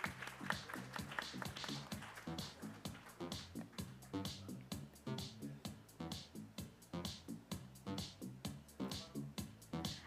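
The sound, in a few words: audience applause welcoming speaker to stage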